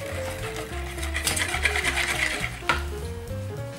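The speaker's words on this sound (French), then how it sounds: "On mélange le tout correctement." A marinade tinted with red food colouring is mixed for a Chinese dish, giving soft, close scraping and swishing stir sounds with a few sharper clinks, set against a low tonal background.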